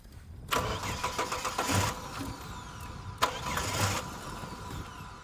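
A car starter cranks in two separate bursts with the fuel pump relay pulled, a whirring, churning turnover heard close with a short pause between attempts, and no steady running engine.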